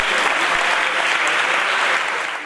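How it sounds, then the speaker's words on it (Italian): Steady applause fills a university great hall, the Aula Magna of the Bo in Padua, at the opening of a Paralympic festival, dense and continuous clapping throughout with no talk over it. "Nell'aula magna del Bo scrosciano gli applausi."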